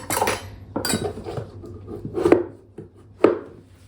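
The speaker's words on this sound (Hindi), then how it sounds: "ये मेरा डिनर सेट का सर्विंग स्पून है, सर्विंग स्पून सेट है" Serving spoons from a dinner set are handled close by at home, clattering and clinking against each other and a hard surface in a few sharp, separate bursts, no talking.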